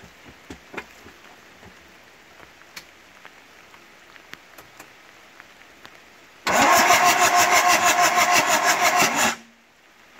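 A car engine cranks on the starter and catches, running loud and steady for about three seconds before cutting off abruptly, preceded by faint scattered clicks and handling noises.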